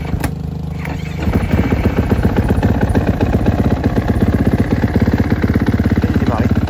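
A motocross motorcycle at a UFOLEP race weekend is kicked into life after a brief quiet stretch, then settles into a loud, close, rapid-firing idle that chatters on steadily.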